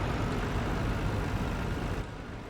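Tractor engine in Farming Simulator 19 running as a steady low rumble, moderately faint and constant with no voices.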